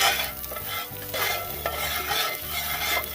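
Food sizzles and crackles in a hot frying pan while a utensil stirs and scrapes through it in uneven strokes, close and fairly quiet, with no voices.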